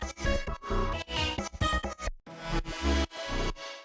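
Melodic future house ear candy loops built from atmospheric synths processed through ShaperBox, with choppy, pulsing rhythmic gating followed by a brighter filtered swell, heard alone without talk.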